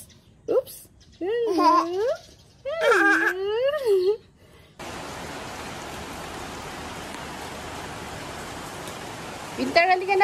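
Rain falling outdoors at the start of the rainy season, a steady broadband hiss that takes over midway after a child's babbling and giggling, with a voice returning near the end.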